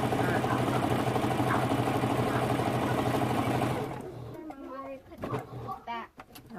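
A domestic sewing machine stitches fabric for oversized mug rugs, running steadily and loudly for several seconds before stopping, followed by quiet handling noises and brief talk.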